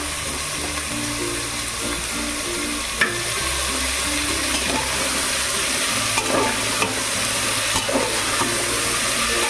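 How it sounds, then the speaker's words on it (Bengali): Skin-on potatoes fry with spices in a pan, a continuous sizzle with occasional stirring scrapes and light clicks of a spoon on metal, without speech. "এবার আলুটাকে একটু মশলার সাথে ভেজে নেব।"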